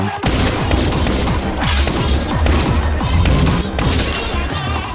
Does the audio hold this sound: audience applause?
no